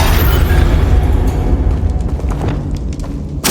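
A Confringo spell explodes in a Hogwarts video game, a loud rumbling burst with a rolling low boom that fades slowly, ending in a sharp crackle.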